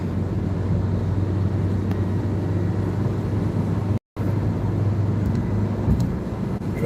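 A car drives along with a steady low engine and road rumble, continuous and fairly loud, with a brief dropout partway through.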